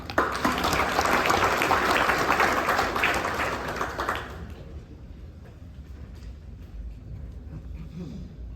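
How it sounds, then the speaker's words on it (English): A conference audience at ATMOAustralia 2025 applauds a Panasonic Hussmann presenter: loud, dense clapping for about four seconds, then it fades to a quieter room with scattered claps. "So a round of applause please to Preshit."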